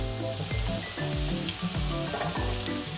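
Minced garlic fries in a hot pan for Italian aglio olio pasta, a steady loud sizzle with rhythmic tool scrapes and stirring clinks, close and continuous.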